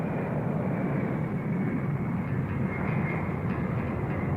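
Airplane engine roaring steadily during takeoff in a read-along storybook sound effect, a loud continuous drone with no voices.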